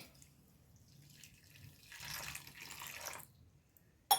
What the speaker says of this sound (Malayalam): മുക്കാൽ ഗ്ലാസ് വെള്ളം തന്നെ ഞാൻ ഒഴിച്ചു കൊടുക്കുന്നുണ്ടേ